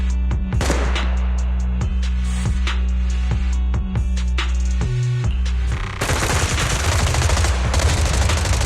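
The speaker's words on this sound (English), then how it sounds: "Gunfire? This pattern. Suppressive marching fire." Dense, sustained gunfire rattles continuously, with repeated sharp bursts over a steady mechanical drone, turning into a heavier, noisier barrage near the end.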